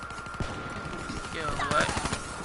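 Vesper submachine gun firing in Call of Duty, rapid bursts of shots in the second half over game sounds, with a voice talking around them.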